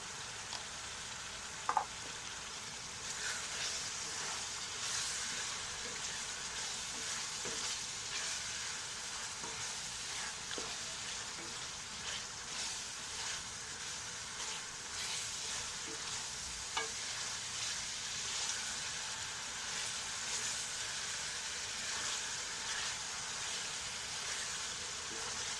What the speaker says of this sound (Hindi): चिकन हमारा अच्छे से फ्राई हो चुका है।